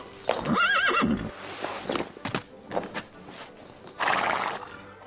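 A horse gives a loud whinny up close, followed by a few hoof clops and shuffling steps, with a brief rushing burst near the end.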